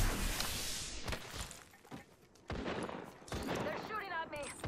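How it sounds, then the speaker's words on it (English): Rapid gunfire in Apex Legends, with dense overlapping bursts and sharp shots forming a loud, continuous firefight and a voice talking over it. "They're shooting at me."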